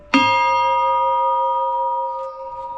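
A small bell struck once, ringing out with a bright sustained tone that slowly fades over a couple of seconds, close and alone.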